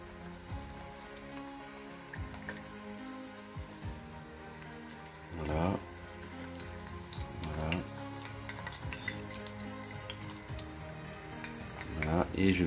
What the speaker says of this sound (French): on va déposer dans le faitout la viande